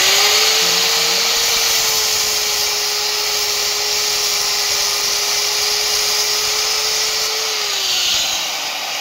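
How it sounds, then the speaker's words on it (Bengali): A power tool cuts through a 2-foot steel rod with a steady, loud, high whine held for several seconds before it tails off near the end. "এখন আমি রড কাটছি, 2 ফুটের রড কাটবো"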